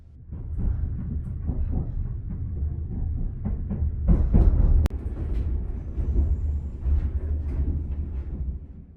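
Inside a double-decker train in Gangwon, a low rumbling ride noise with rattling carriage clatter and irregular knocks and creaks, building to a louder jolt midway before settling back into the steady rolling drone.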